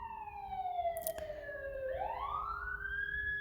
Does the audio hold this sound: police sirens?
yes